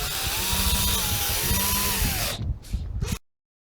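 An electric drill drives screws on a window of a 1966 Viscount Ambassador caravan, a loud close whirring buzz for a couple of seconds, then short stuttering bursts before it stops.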